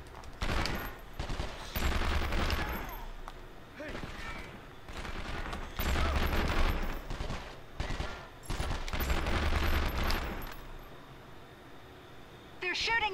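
Rapid bursts of gunfire from enemies in the PlayStation 2 game 24: The Game, loud clustered volleys and machine-gun rattles repeating in waves, with a player talking over the shooting.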